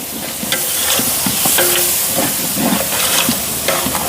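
Biryani masala frying in a pan as Nandini curd is stirred in, a steady close sizzle and hiss with scraping stirs, no voices.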